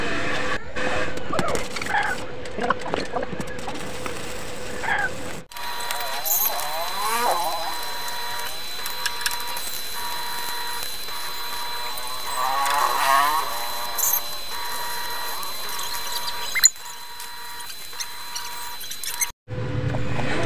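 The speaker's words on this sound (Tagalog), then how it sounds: "I-welding na natin agad mga pre, para matapos natin agad siya." Welding on a tricycle frame during a re-alignment repair: a steady crackling, buzzing arc runs for several seconds, with shorter bursts before and after and brief pauses between, close up and loud.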